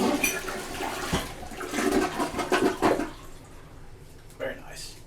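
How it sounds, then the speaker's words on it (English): An American Standard Champion 4 toilet flushes close by, a rushing swirl of water building for about three seconds, then fading into a quieter refill trickle with a brief splash near the end. "We can try and flush it a couple more times just to make sure."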